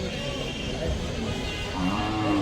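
Deep lowing from a bull at a cattle market in Chalisgaon, a couple of drawn-out calls rising over a muddy, noisy outdoor background.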